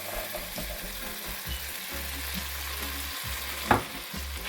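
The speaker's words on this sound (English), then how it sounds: "Give it a stir." Butter beans stirred into a hot pan with peppers, a steady frying sizzle throughout with soft scraping stirs and one sharp utensil clink near the end.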